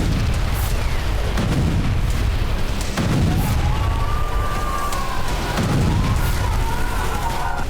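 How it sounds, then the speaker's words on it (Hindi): Heavy explosions from Israeli military strikes on Syria, a few deep booms rolling in one after another over a constant rumbling din, each burst loud and resonant. "एक के बाद एक होते ये धमाके।"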